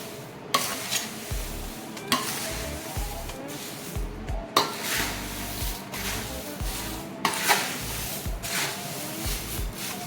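Ground coriander and cumin powder roasting in a pan with a little oil, a continuous soft sizzle with repeated scraping stirs of a spoon and occasional sharp clicks against the pan.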